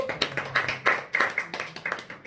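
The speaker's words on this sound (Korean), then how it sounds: "박수!" A quick burst of rhythmic hand claps, about a dozen sharp slaps in steady succession, close and fairly loud.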